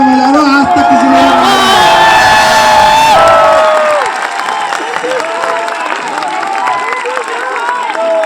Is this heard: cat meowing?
no